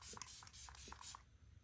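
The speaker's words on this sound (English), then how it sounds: "Such a fine like spray as well." Makeup setting spray released as a fine mist in a few quick, close pumps of soft hiss, which stop after about a second, leaving near silence.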